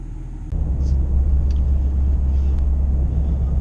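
A car engine fitted with a throttle valve delete, intercooler tube and hub repair runs while driving, a steady low rumble of road and engine noise that swells up sharply after a quiet start.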